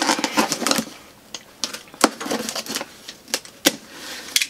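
A blade cuts open a cardboard box carefully, producing quiet, close, scratchy ticks and short slicing scrapes at an irregular pace, with no voices.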